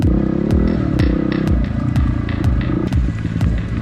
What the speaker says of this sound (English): following Josh on his KTM, who's following Mad Mal on his KTM